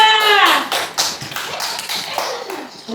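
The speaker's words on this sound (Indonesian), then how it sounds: "tepuk tangan dulu untuk kelompok" A classroom of students claps for a student group during a lesson, a dense burst of hand claps and taps filling the short stretch with some voices mixed in.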